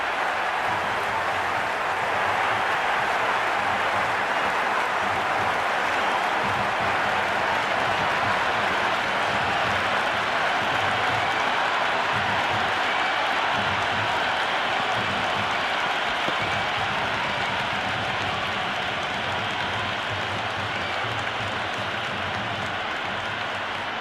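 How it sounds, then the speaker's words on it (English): A steady roar of crowd applause in a cricket video game stadium, dense, continuous and unbroken for the whole stretch, loud and sustained as if filling the stands. "It's the most enthusiastic crowd you could ever see right now."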